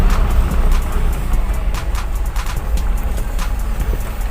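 A vehicle with a 4HL1 engine prone to stalling, hard starting and vibration drives on a road test, giving a loud, steady low engine drone with a faint ticking texture over it.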